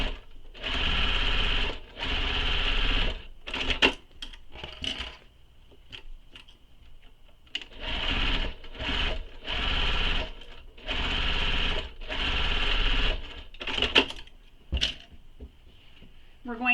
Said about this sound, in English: we're going to sew across this using the seam allowance given in the pattern